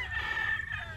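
A rooster at a Filipino cockfighting farm crows in a single sustained, nasal call that holds steady for about a second, close and moderately loud over faint background noise.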